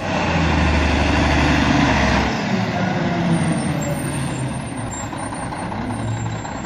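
Toy garbage truck sound module playing a loud, steady diesel engine rumble with an air brake hiss, the low drone dropping after about two seconds and idling on to the end.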